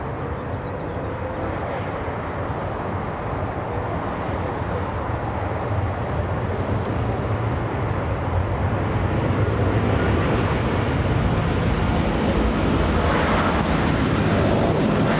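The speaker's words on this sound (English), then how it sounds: "Rolls-Royce Trent 800 engines powering up." Rolls-Royce Trent 800 jet engines spool up for takeoff at LAX, a loud broadband roar that builds steadily and swells toward the end, heard alone from a nearby vantage.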